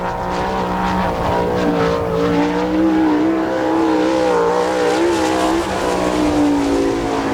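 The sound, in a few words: sprint car on a qualifying lap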